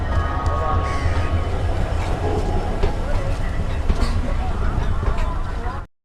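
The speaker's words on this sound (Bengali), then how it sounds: "আটটা 38 ট্রেন ছেড়ে দিল, প্রায় রাইট টাইম বলাই চলে।" The 12703 Falaknuma Express rolls on after leaving Howrah: a steady, close rumble of wheels and carriages with faint clatter and murmuring voices, ending abruptly.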